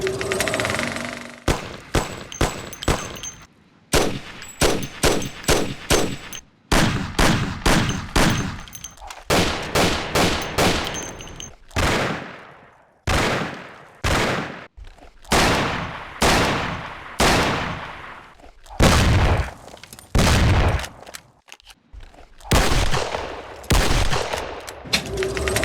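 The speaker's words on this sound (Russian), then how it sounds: "Новые звуки оружия." Rapid bursts of gunfire from new weapon sounds in the Mafia remaster video game, loud and sharp, coming in repeated volleys of closely spaced shots with brief pauses between them across the whole stretch.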